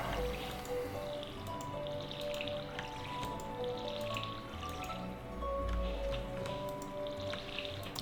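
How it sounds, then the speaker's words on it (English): Watering crops in Stardew Valley: soft, repeated splashes and drips from a watering can over a gentle game background, quiet and rhythmic with no talk. "Okay, so we have to water some crops."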